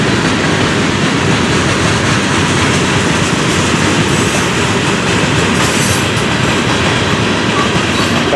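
A Florida East Coast freight train rolls by with its gondolas and cars in a continuous close, loud rumble, with steady clickety-clack of wheels over rail joints and faint wheel squeal throughout.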